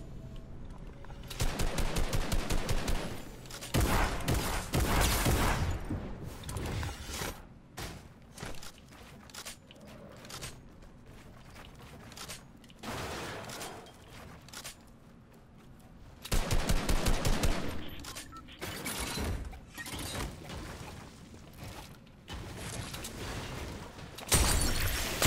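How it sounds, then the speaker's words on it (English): Bursts of automatic gunfire and single shots in a shooter video game, loud and close, arriving in dense clusters separated by short lulls over about 25 seconds. "Where is he shooting from, too?"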